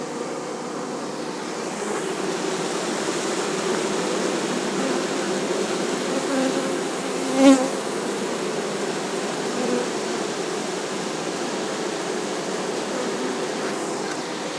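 A bee swarm entering a hive outdoors gives a dense, steady buzzing drone that holds loud and even throughout, with one brief sharper knock near the middle.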